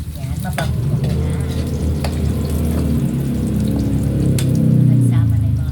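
Ginger, garlic and onion sizzling steadily in hot oil for tinolang manok, close and continuous, with occasional stirring clinks and a slight rise in intensity near the end.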